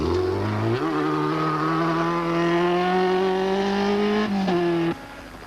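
Fiat Uno rally car racing along cane-field stages at the 1994 Castrol International Rally, its engine howling loud and close with rising revs and a gear change, holding a steady strained note before dropping away near the end.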